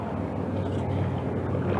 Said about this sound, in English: All right, Evan, quit paddling.